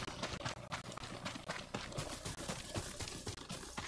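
Horse hooves clip-clop in the video game Ghost of Tsushima, a quick and steady run of hoofbeats with rustling movement, moderately close and with no talking.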